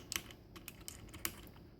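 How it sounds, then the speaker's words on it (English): Light, irregular clicks of typing on a Cherry MX Blue mechanical keyboard with LED backlighting, quiet and close against faint room hiss. "There's the Cherry MX Blue with the LED."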